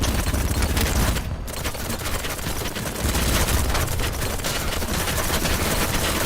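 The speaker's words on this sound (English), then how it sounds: "There's a guy down there shooting at them." Sustained automatic gunfire in the video game Battlebits rattles loudly and continuously in rapid bursts, with only a brief gap, and no talk over it.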